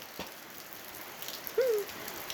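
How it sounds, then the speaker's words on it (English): Light rain beginning to fall outdoors in Volcán, Panama: a faint, steady patter and hiss, with a brief higher whistle or chirp standing out near the end. "It's starting to rain."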